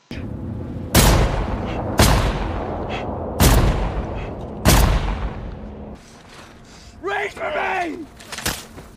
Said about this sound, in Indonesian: langsung melepaskan beberapa kali tembakan ke arah tumpukan limbah